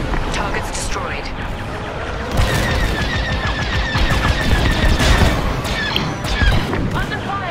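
Star Wars: Squadrons starfighter combat fills the scene with rapid bursts of laser cannon fire, booming impacts and crashing blasts. The barrage is continuous and dense, and it grows heavier partway through.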